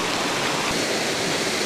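A waterfall pours in a continuous dense hiss of falling water, even and steady throughout, with no voices.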